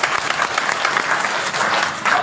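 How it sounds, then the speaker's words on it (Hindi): Enthusiastic applause from the crowd at a Ram Katha religious gathering, many people clapping hard together in a loud continuous wave that briefly swells toward the end. "एक बार जोरदार तालियां थोड़े से।"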